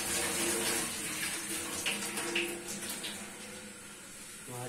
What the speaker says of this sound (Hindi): टमाटरों को वॉश कर लिए।